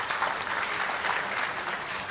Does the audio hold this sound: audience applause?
yes